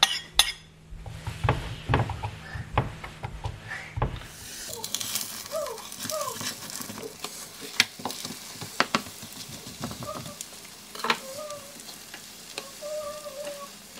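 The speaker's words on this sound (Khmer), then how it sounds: "ចាប់តបមកយើងចាក់ពងទាយើងចូលណា" Duck eggs are poured into hot oil in a pan and fry for a Thai shrimp paste dish, with steady close sizzling, scraping stirs and light clinks of utensil against the pan throughout.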